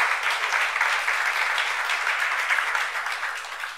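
Congregation at a youth service of a Korean church clapping together, a steady dense wash of applause holding at even loudness for several seconds with no talk over it.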